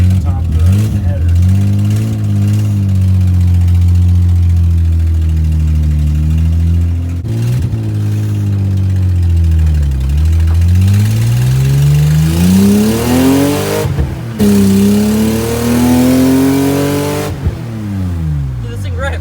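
A BMW E30 drift car with its exhaust cut off and a leak at the top of the header, revving hard and loud up close, with the raw engine note rising and falling through several throttle blips, and voices underneath.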